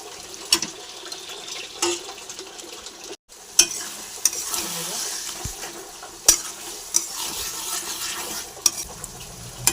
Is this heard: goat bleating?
no